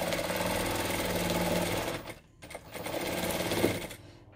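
Sewing machine quilting a clutch bag slowly with the presser foot down, a close rattling hum that runs steadily, cuts out briefly, then resumes and stops near the end.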